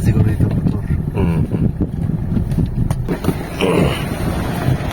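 A motorboat passes on the water along an unfinished baywalk in Dagupan, its steady engine drone running under wind buffeting and someone talking nearby.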